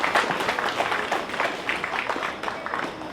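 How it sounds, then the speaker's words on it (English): An audience at a Girmit anniversary commemoration gives a minister a round of applause, dense, steady clapping up close that fades slightly toward the end, with faint voices beneath. "I think we can give another huge round of applause to Madam"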